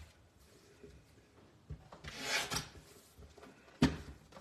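A hand tool trims a small piece with a few quiet scraping, rasping strokes at close range, building to a brief louder rub and ending with a sharp scrape, in an otherwise quiet room.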